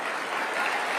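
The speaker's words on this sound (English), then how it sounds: "let's clap it up for that" Audience applause at America Fest, a dense steady wash of clapping filling the short stretch at even loudness with no voices on top.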